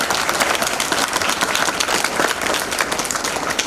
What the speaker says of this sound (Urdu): big round of applause for الہرا students